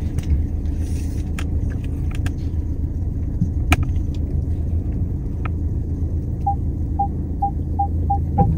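A Peugeot 2008 maneuvering at low speed, a steady low engine rumble and road hum throughout with a few faint clicks, then a run of regular short electronic beeps near the end like parking-sensor tones.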